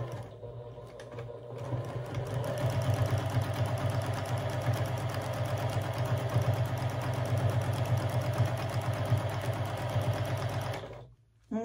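A sewing machine runs steadily for free-motion quilting of shell shapes, a continuous close, even mechanical whir and rapid needle clatter that holds for about ten seconds before stopping abruptly.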